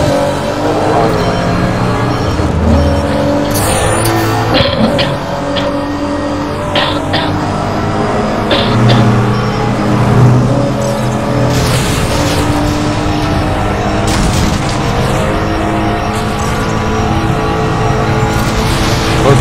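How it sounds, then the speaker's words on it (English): Aston Martin V12 Vantage racing car engines in a video game roar and rev continuously, with pitch rising and falling as gears shift and cars pass close by. "I got really, really close to him just to hear my engine noise."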